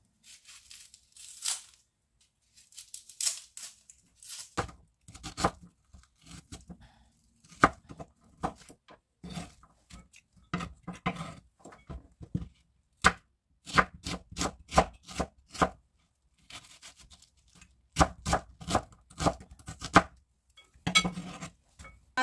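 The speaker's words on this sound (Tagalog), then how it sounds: "hihiwa tayo ng sibuyas" A knife slices an onion on a cutting board for an avocado salad, making crisp, irregular chopping taps and tearing cuts in quick bursts, close and alone with no talking.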